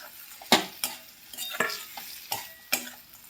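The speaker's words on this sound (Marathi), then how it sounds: "आता आपण हे जे कारलं जे तळून घेतलं होतं, भाजून घेतलं होतं, ते यामध्ये आपण मिक्स करायचं आहे" A spoon stirs fried bitter gourd into a jaggery and spice mix in a pan, making a series of scraping strokes close by over a light sizzle.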